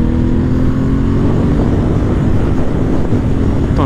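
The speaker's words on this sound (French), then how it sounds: "Là, on entend quand même assez le bruit de la moto." A motorcycle engine runs continuously and loudly during a ride, a close, droning hum with a steady pitch and no break for the whole stretch.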